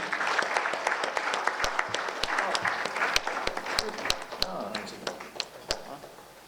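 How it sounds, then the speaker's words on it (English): An audience claps at a presentation event in Sri Lanka, a dense wash of applause with sharp individual claps standing out close by, continuing steadily throughout. "Give a big round of applause,"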